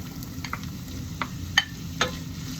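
Potatoes go into a pan of frying onion and garlic, giving a steady low sizzle with a few sharp clinks and scrapes of a spatula against the pan, and no talking.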